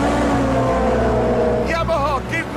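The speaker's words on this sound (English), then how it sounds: "Yamaha, give me every single rev that Yamaha engine has got." Yamaha outboard engine on a boat revving hard and loud, a sustained droning roar with a rising pitch near the end, close by and without speech.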